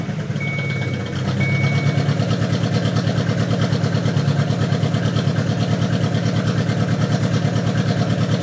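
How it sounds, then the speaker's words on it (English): A car engine idles steadily after an idle air screw adjustment on the throttle body, with a fault affecting mass air and throttle position sensors; after a brief low start the running hum holds loud and even, pulsing rhythmically throughout. "John, I adjusted the idle air, the little screw on top of the throttle body, and I got it as best I can so it stays running, and this is what she's doing now"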